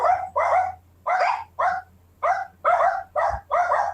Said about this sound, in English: You can tell the dog, like even the dog barking is fake.